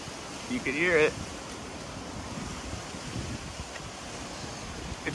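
Category 4 Hurricane Ian wind roaring steadily over Port Charlotte, Florida, a dense broadband rush with gusty swells, while a voice calls out briefly near the start.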